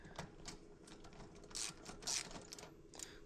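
Ratchet clicking in irregular bursts while loosening bolts to drop the wheel out of an e-bike fitted with a regen torque arm, moderately close, with brief louder rattles and no talk.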